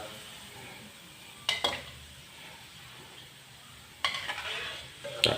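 Shallots frying in a pan for a Thai son-in-law eggs dish, a steady faint crackle with two louder bursts of stirring and scraping near the middle and end.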